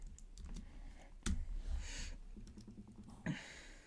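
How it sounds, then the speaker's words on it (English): Keys tapped on a computer keyboard to enter a password, sparse soft clicks in an irregular, careful rhythm, faint and close in a quiet room. "I'm going to very carefully type the password"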